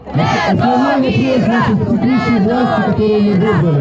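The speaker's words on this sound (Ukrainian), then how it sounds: "Час від часу мітинг супроводжувався вигуками ганьба" A rally crowd shouting "shame" in unison, loud and close, with repeated rhythmic chanted calls rising and falling over about four seconds, mixed with overlapping voices.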